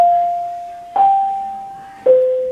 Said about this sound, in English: That's the after school second bell.